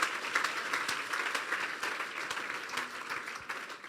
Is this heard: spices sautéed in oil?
no